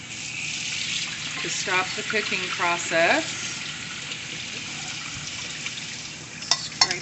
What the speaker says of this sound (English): So you run these immediately under cold water